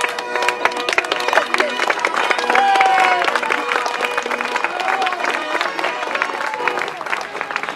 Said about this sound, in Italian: Un applauso alla festa!